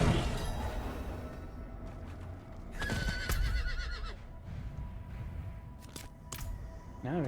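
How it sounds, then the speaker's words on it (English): Horse neighing and hoofbeats in the video game Diablo 4, with a couple of whinnies and clip-clopping steps over game effects, fairly quiet and with no talk. "Now we have this horse."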